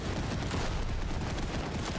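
Video game gunfire: a continuous, loud barrage of rapid shots and bursts filling the whole moment, dense and close with no pauses and no talk over it.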